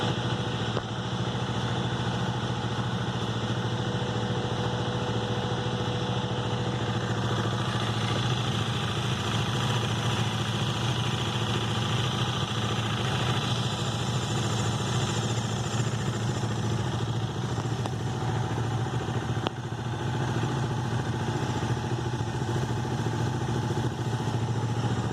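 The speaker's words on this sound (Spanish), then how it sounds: "aquí hay una moto 0 kilómetros, 1 kilómetro. Se está listando en estos momentos, tiene el ventilador en funcionamiento, lleva prendida varios minutos." A brand-new 2020 Bajaj Dominar 400 UG motorcycle idles steadily for a long stretch, its engine hum constant and close, with the cooling fan whirring alongside throughout; no talking.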